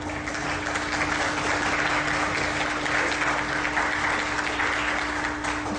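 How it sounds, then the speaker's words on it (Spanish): Sustained audience applause welcoming Dr. Orozco Lugo as a speaker, a dense, steady wash of many hands clapping at even loudness throughout, with a faint steady hum underneath. "Por favor, recibamos con un fuerte aplauso al doctor Orozco Lugo"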